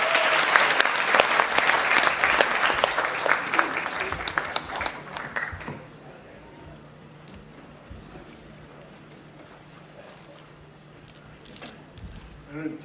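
Applause from a seated audience greets a speaker stepping up to give a congratulatory address at the launch of a national coalition; dense clapping for about six seconds, then tapering to scattered claps and quiet room tone.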